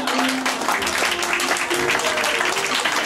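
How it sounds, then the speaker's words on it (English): Lively audience applause at a poetry event, a dense continuous wash of clapping with voices calling out and chatter running through it. "A round of applause"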